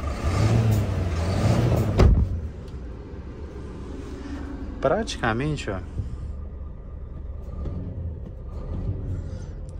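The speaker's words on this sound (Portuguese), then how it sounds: "o ruído, mesmo sendo um motor diferente, inicialmente o ruído é muito, mas muito baixo" Low, steady Scania truck engine rumble from inside the cab, fairly quiet, with someone talking over it and a brief warbling sound partway through.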